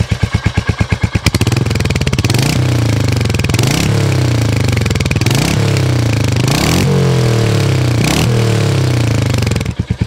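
A Royal Enfield HNTR 350 single-cylinder motorcycle exhaust thumps steadily up close, revving up and easing back in repeated surges, loud and continuous.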